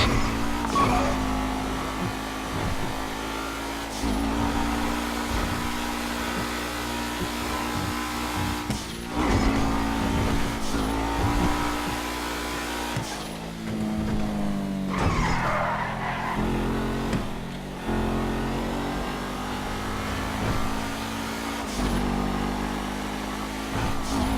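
A car in the video game GTA Online drives hard during a Fleeca bank heist, with a steady engine drone, repeated tire skids and squeals, and shifts in revving across a long stretch without any speech.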